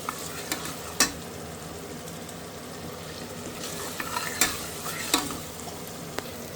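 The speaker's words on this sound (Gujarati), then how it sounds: "તો આપણે મસાલો હેકી નાખીએ." Masala spices frying in a pan while cooking desi chicken sizzle steadily, with several distinct clinks and scrapes from stirring and no talking.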